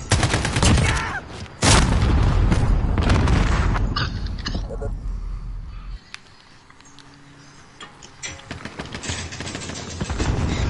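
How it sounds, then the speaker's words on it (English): A .50 caliber rifle fires in a PS4 shooter, with heavy booming shots and bursts of gunfire that cut off into quieter ambience, followed by sparse clicks, with a player talking over it. "I just shot him straight in the nuts with a 50 cal"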